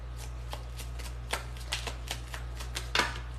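A deck of oracle cards is shuffled by hand, a quick run of crisp papery flicks and riffles that builds to a burst near the end, heard close over a steady low electrical hum.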